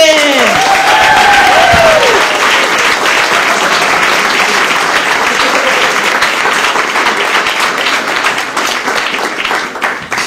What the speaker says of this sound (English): start clapping it up for Chris London